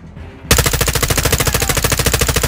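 Loud, close sustained automatic fire in Call of Duty Modern Warfare 2 multiplayer, a steady rapid stream of shots that starts abruptly after a quiet moment and runs without pause.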